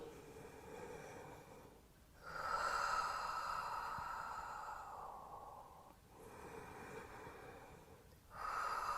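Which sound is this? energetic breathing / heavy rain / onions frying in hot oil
energetic breathing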